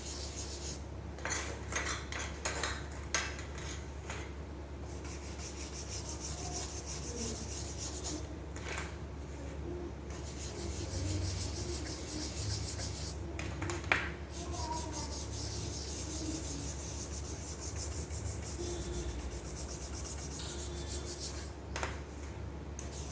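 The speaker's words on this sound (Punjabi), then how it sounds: "ਬੁਰਸ਼ ਦੀ ਮਦਦ ਦੇ ਨਾਲ ਆਪਾਂ ਇਹ ਜਿਹੜਾ ਸਾਰਾ ਮਿਸ਼ਰਣ ਬਣਾਇਆ ਵਾ ਇਹ ਆਪਾਂ ਇਹਦੇ ਉੱਤੇ ਅਪਲਾਈ ਕਰਾਂਗੇ" A brush scrubs a homemade cleaning mixture onto a clothes iron, making continuous scratchy rubbing strokes with a few brief pauses and light clicks, close up and moderately loud.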